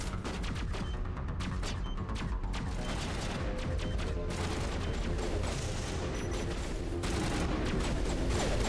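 Sustained gunfire in the Mass Effect 1 video game, dense overlapping shots and bursts rattling continuously at steady loudness for the whole stretch, with no pauses.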